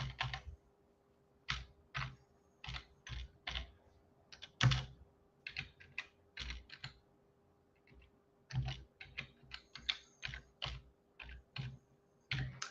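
Someone types on a computer keyboard in irregular bursts of close, crisp key clicks separated by short pauses, with no talking.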